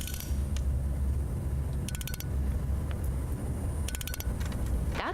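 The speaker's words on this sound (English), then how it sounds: "That's the sound of data being collected every 3 seconds." A mobile weather station cart rolls along collecting data, with a continuous low rumbling roll, creaks and rattles, and two short bursts of rapid clicking ticks roughly two seconds apart.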